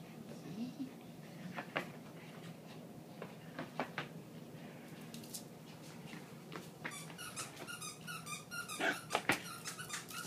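Small Maltese and Yorkshire terrier dogs play nearby, with squeaky yips, snuffling and scuffling, growing busier toward the end; a person talks occasionally.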